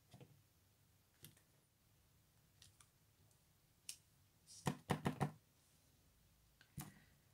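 A foliage stamp is pressed with paint onto a sheet of paper, making faint irregular taps and soft clicks, with a quick cluster of closer taps midway, in a quiet room.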